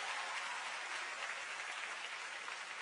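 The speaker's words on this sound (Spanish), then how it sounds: "un fuerte aplauso para recibirlos" A concert audience applauds in a dense, even wash of clapping that holds steady, heard quietly and at some distance.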